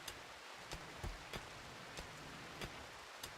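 Steady rain hisses on outdoor surfaces on a very hot day, with scattered louder drops or drips tapping irregularly through the constant wash of noise.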